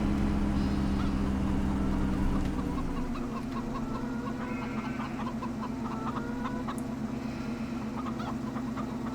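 Chickens cluck and squawk steadily over a loud low engine drone in the video game Farming Simulator 15, with short repeated calls throughout; the drone drops slightly partway through.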